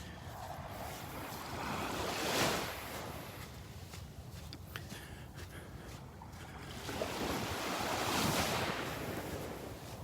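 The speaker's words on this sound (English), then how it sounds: "My favorite beach in Naples, right here." Ocean surf rolls in at Delnor-Wiggins beach in Naples, with two broad swells of crashing wash a few seconds apart over a constant hiss of water and wind buffeting the microphone.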